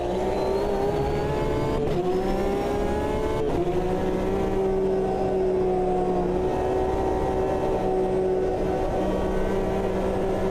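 A Porsche GTE race car's engine screams at high revs inside the Automobilista 2 racing game, a loud, continuous, sustained wail with brief dips as the driver shifts gears.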